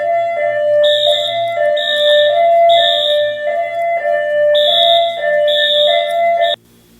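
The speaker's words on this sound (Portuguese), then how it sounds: "o alarme de incêndio foi acionado" A school fire alarm sounds loud and close in a repeating pattern of shrill electronic tones that pulse in regular bursts for several seconds, then cuts off abruptly near the end.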